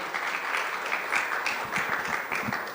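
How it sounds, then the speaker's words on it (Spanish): Audience applause at a neurological sciences conference, steady dense clapping from a seated crowd for the full stretch, moderately loud and without speech. "un aplauso para la doctora y pase adelante"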